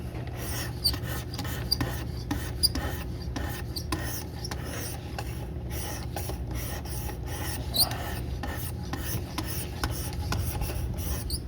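Knife sharpened on a Work Sharp Precision Adjust Elite stone, a continuous run of quick rasping strokes back and forth at a close, moderate level with no talking.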